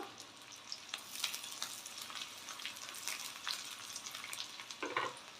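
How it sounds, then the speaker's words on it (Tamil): Onions and curry leaves sauté in a pan for a buttermilk kuzhambu, giving a faint, steady sizzle broken by occasional light scrapes from stirring. "கொஞ்சம் நேரம் இதை வதக்கிடுவோம்"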